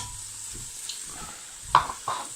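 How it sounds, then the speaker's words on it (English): Ginger and garlic are stirred into onions frying in a pan for an Indian chicken curry, with a soft steady sizzle broken by a few scraping spoon strokes. "Stir that up nicely. Get the ginger and the garlic infused into the onions."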